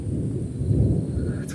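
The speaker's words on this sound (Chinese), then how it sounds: "怎么突然就打雷了？" A low, rolling rumble of thunder growls steadily for about a second and a half, deep and moderately loud, with no talking over it.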